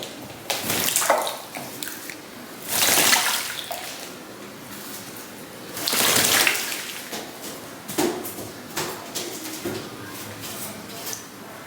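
A very young female pet pigeon bathes in a water tub, giving bursts of splashing and wing-flapping spray between quieter pauses, with soft water trickles and faint bird sounds in between.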